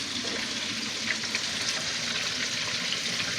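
Corn pieces deep frying in hot oil give a steady, close, bubbling sizzle that runs unbroken throughout, with no voices.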